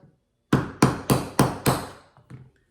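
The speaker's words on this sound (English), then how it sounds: "hammer out that primer" Five sharp, evenly spaced rubber mallet strikes on a decapping tool knocking a primer out of a 45-70 Government cartridge case, followed by a couple of softer taps, close and distinct with no voices.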